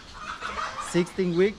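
Farm chickens on Rancho Margot cluck and murmur close by, with a couple of short voiced clucks near the end, mixed with a person talking.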